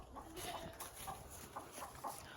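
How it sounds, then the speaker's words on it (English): A hen inside a barn clucks softly with a few short, scattered calls. It sounds faint and somewhat distant over low background noise. "there's a chicken in here."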